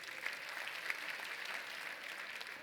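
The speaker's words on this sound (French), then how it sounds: "Mesdames et messieurs, je vous demande de les applaudir, s'il vous plaît." Audience applause at a business technology conference in France, a soft, steady patter of many hands clapping from a distance, low in level.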